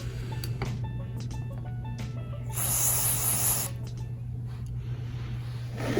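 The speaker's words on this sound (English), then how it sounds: "Gonna hit the drain plug with a little brake clean." Brake cleaner sprayed onto the oil drain plug of a 2014 Mustang during an oil change, a single loud hissing burst of about a second over a steady low engine-bay hum.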